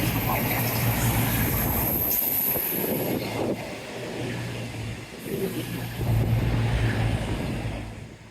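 A train rumbles past nearby at Teignmouth with a steady low mechanical drone and rattling, the noise swelling and easing over several seconds.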